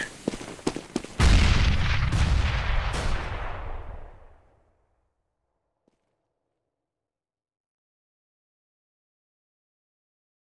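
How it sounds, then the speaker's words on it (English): A grenade goes off in CS:GO after a few sharp gunshot-like cracks. The explosion is a loud, heavy boom that rolls on for several seconds before fading into silence. "Grenade."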